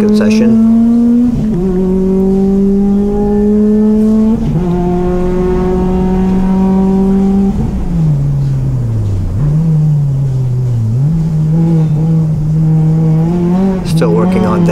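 A car drives a lap at a Northern Speed time attack track event. The engine is loud and close, with steady high revs that climb and drop sharply at several gear changes and braking points, and a driver talks over it.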